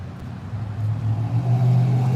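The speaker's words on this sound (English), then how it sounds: "Is this loud truck right now sync?" A loud truck rumbles past near a roundabout, its deep engine growl swelling steadily and peaking toward the end as it draws closer.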